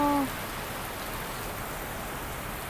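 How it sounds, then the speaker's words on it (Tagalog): Steady heavy rain pours down in Hong Kong with a dense, constant hiss, unbroken from start to finish. "Grabe ang ulan talaga guys"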